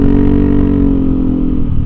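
A Yamaha NMAX 155 scooter fitted with a TZM racing exhaust runs close by, its engine holding a loud, steady throaty drone for a couple of seconds with a slight rise and no talk.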